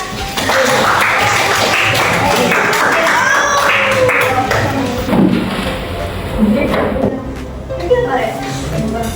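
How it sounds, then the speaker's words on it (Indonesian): A seventh-grade class in a Surabaya madrasah claps hands together in a dense burst of close applause that lasts a few seconds and then thins into scattered taps, with talking over it. "Jadi sudah semua tepuk tangan."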